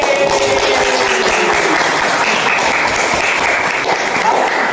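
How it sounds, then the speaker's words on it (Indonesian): A classroom group claps together after a student presentation, a loud, dense burst of applause that stays steady and close throughout, with faint voices mixed underneath. "Ya, tepuk tangan bersama."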